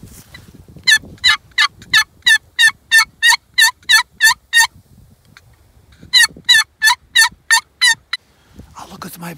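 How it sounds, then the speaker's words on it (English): A turkey call used to draw wild turkeys in an open field sounds a long run of sharp, evenly spaced gobbling pulses, pauses, then repeats a shorter burst, loud and near over faint outdoor background. "Let's try this turkey call and see if the turkeys come any closer at all."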